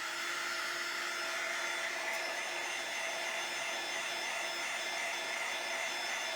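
Hair dryer blowing steadily on freshly painted rolling pin handles, a constant close whooshing hum with no break from start to end.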